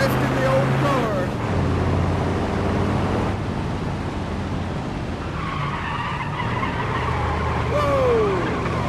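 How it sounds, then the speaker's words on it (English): An old 1930s-style car drifting in the BeamNG.drive racing game, its tires skidding and squealing over a running engine, while someone talks throughout. "Drifting the old car."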